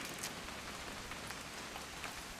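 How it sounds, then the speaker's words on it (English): Steady rain falling in the video game What Remains of Edith Finch, a continuous even hiss with scattered drop patter, moderately loud and without voices. "It's gonna rain the whole weekend, isn't it?"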